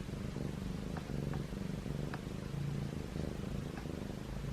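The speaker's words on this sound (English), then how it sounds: "He's purring so loud." A feral kitten purrs close up, a steady low rumble that pulses with each breath, continuing throughout with no talking.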